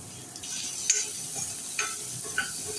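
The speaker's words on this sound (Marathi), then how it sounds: "बारीक चिरलेला गाजर, 1-2 मिनिटं परतून घेऊया" Finely chopped carrot and capsicum are stirred and sautéed in a pan for paneer pulao, with a steady close sizzle and a few scraping stirs of a spoon, with no talking.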